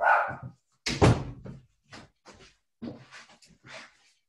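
A dog barks in several sharp bursts indoors, the first loud and close, then a cluster of quieter barks with short gaps, heard alone in an otherwise silent room.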